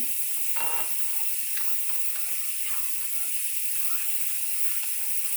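A gas stove is lit under a pot of milk and sugar for güllaç: a few close igniter clicks over a steady, loud hiss of gas, with no talking.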